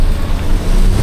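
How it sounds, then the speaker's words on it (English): A loud, close rushing whoosh from the turbo blow-off valve on a Suzuki Jimny whose valve vent is routed up a snorkel, heard as a brief burst of broad air noise over engine rumble. "You can hear the blow-off valve."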